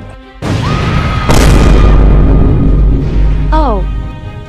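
A loud, booming explosion from the Roblox Brookhaven game, with a broad blast at the start and a second heavy burst about a second later that rumbles on. Speech-like game sounds and a brief descending whistle come near the end.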